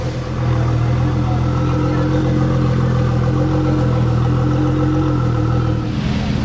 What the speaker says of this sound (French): Échappement à Krapovic sur cette Ford GT.